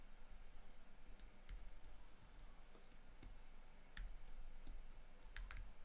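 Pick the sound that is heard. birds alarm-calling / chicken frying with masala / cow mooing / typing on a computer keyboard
typing on a computer keyboard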